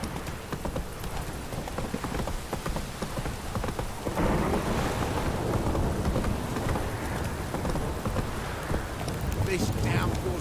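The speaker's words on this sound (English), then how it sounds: "This downpour's a bastard," Heavy downpour in The Witcher 3: Wild Hunt, steady dense rain noise throughout with a horse's hoofbeats clip-clopping along and faint rumbles, growing louder after a few seconds.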